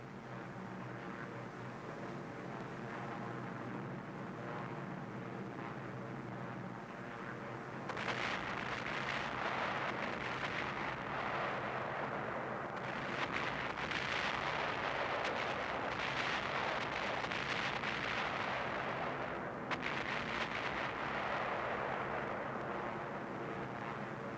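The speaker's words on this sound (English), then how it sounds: "phosphorus bombs popping all over the place" Phosphorus bombs pop and burst during a WWII bombing run, a dense, crackling roar of explosions that swells abruptly and stays heavy over a distant aircraft drone.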